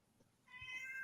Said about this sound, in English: Was that my cat? That's my cat.